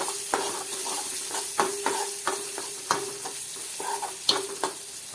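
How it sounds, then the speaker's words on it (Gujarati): Chopped onion sautés in a hot pan for a Gujarati semolina snack, with a steady soft sizzle broken by regular scraping stirs of a spoon, close and fairly quiet. "ડુંગળીને સારી રીતે મિક્સ કરી દઈશું."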